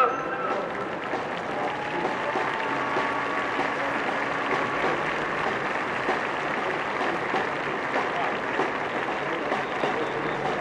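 Protest crowd on the streets of Bucharest, Romania, applauding in tribute to a deceased activist: a dense, steady wash of many hands clapping that holds without a break, with voices and crowd noise mixed in throughout.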